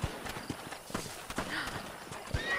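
Horse hooves in the PS3 game Red Dead Redemption, a quick uneven clip-clop of a few hoof strikes against a low rumbling background, moderately loud and close.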